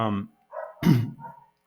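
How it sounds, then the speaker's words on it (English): Dogs bark indoors close by in several short, sharp bursts, with yips and a whimpering tone between the louder barks. "Sorry about the dogs, guys. They're not my dogs."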